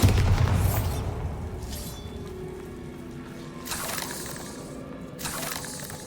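A Bombarda spell blast in Hogwarts Legacy: a deep booming explosion at the start that decays into rumbling debris and scattered crackles, followed by softer bursts of rubble later on.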